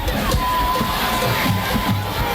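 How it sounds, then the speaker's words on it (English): A big crowd cheering at the 100th Beverly vs Salem high school Thanksgiving morning football game at Hurd Stadium, a loud continuous roar of voices with scattered shouts, steady and close. "Big crowd here at Hurd Stadium on Thanksgiving morning."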